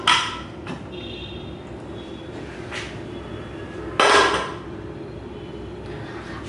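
A pressure cooker holding freshly cooked mutton biryani is opened in a home kitchen with a few metallic clanks and a sharp clatter of the lid. The clanks are separated by a quiet background hum.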